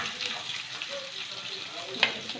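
Whole cumin seeds and green chilies sauté in a pot with golden fried onions, a soft steady sizzle with a faint clink of a utensil near the end.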